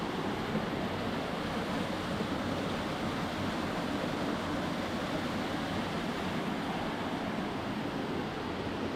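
Water rushes to drive a turning wheel at Fazenda Ipanema in Iperó, heard as a steady, dense, loud roar of flowing water with no break or pause from start to finish.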